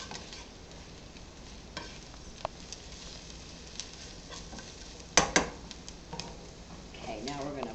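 Pork and beans, Italian style, are stirred in a pot with soft scrapes and sizzling, broken by a few sharp utensil knocks against the pot midway; a voice is faintly present.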